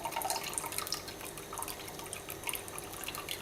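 Water steadily dripping and trickling from a ball of homemade rennet-free kashar cheese as it drains, a close, continuous wet patter with no voices.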